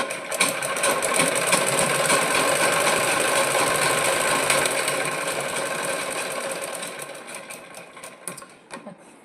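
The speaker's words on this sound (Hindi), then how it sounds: "इस पर हम कच्ची सिलाई चलाएंगे" A sewing machine runs a long, continuous basting stitch along a blouse, a close, even whirring that holds steady before slowing and fading out near the end.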